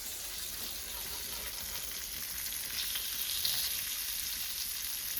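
Fresh kokari fish coated in rice flour fries Malvani style in a pan with a steady, moderately loud sizzle that swells slightly partway through as the pieces are turned; nobody talks.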